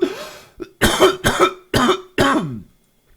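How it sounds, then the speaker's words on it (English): A run of five or six harsh coughs from a dry throat in quick succession, close and loud, with short gaps between bursts, then silence. "I'm starting to cough from all this dry throat shit"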